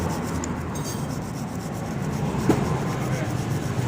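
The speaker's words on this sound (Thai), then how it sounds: "ฉีดน้ำยาใส่ก่อน แล้วก็ขัด ขัดไปเรื่อยๆครับ" Contacts in the starter of a Yamaha Mio 125 motorcycle are scrubbed after being sprayed with cleaner, giving a close, steady rubbing and rasping that runs throughout with one sharper scrape partway through.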